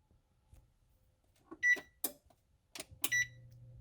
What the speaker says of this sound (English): Now we're going to set our timer.